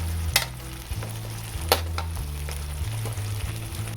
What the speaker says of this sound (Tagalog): kailangan nating durugin yung sardinas or yung isda